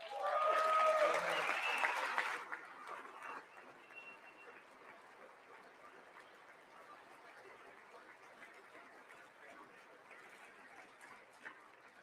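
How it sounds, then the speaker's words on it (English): Loud applause from a legislative chamber during a State of the Union address, a dense burst for about two seconds that fades into scattered claps and murmuring crowd noise. "I wasn't sure if anybody even on this side was going to applaud for that"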